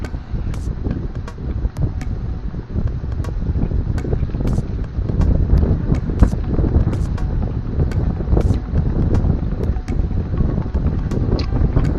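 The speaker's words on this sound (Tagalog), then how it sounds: "Malakas yung hangin." Strong wind roars steadily across the microphone on a spearfishing outing in the Philippines, a dense, gusty rumble with occasional sharp buffeting pops, loud and continuous throughout.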